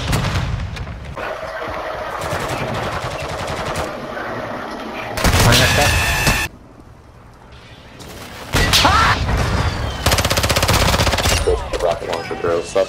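Video game gunfire comes in loud bursts of rapid automatic shots, several separate volleys with short quieter gaps between them.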